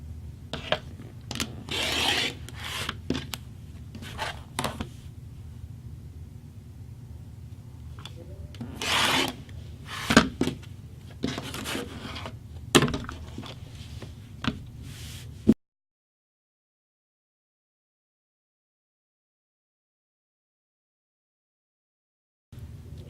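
Binding strips being cut by hand, heard as close, repeated scraping and rubbing strokes in uneven bursts for about fifteen seconds, then silence with no talking.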